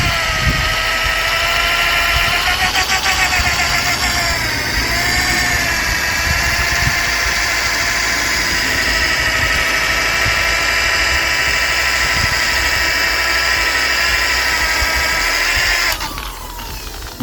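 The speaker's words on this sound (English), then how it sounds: "Turn the polisher right down low on speed." A rotary polisher runs steadily at low speed, spreading compound on a Hyundai Accent 1.3 GSi's paint, a continuous close whirring hum with a slight pitch dip early on and a change in tone near the end.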